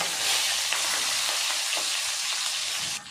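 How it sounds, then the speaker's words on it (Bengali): Chopped onions frying in hot oil with bay leaves and green chillies for a Bengali chicken kasa, a loud continuous sizzle with faint stirring scrapes, no one talking. "পেঁয়াজ দেওয়ার পরে ভালো করে পেঁয়াজটাকে আমি গোল্ডেন ব্রাউন কালারে ভেজে নেব"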